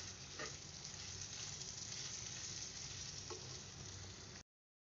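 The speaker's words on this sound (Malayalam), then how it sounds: "എല്ലാ മസാലപ്പൊടികളും ചേർത്തിട്ട് നന്നായി ഒന്ന് മൂപ്പിച്ചെടുക്കുക" A dense, even sizzle comes from chilli powder and garam masala roasting in a hot pan, with faint stirring scrapes, before the sound cuts off abruptly just short of the end.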